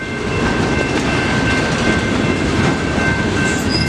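A Norfolk Southern mixed freight train rolls past the Mill Street railroad crossing in Ecorse, Michigan, a loud, steady rumble of wheels on rail with faint clickety-clack and a thin high squeal running through it.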